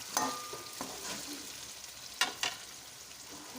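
Chicken pulao with mint and green chili is stirred in a pot, a gentle frying sizzle under scraping strokes, with two sharper spoon scrapes near the end; no one speaks.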